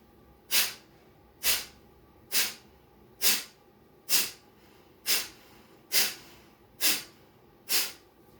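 Qigong reverse pulse breathing through the nose, nine sharp, forceful nasal exhalations at a steady rhythm of roughly one per second, close and clear against quiet background.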